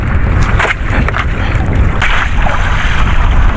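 A fishing boat pitches through rough open sea, with loud wind buffeting the microphone, crashing waves and water splashing against the hull in continuous, heavy turbulence.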